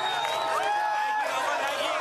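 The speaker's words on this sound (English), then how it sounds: "These crowds gathered despite all that." Crowd of opposition demonstrators gathered in a street, a steady dense babble of many voices with a few raised tones, continuous and fairly loud throughout.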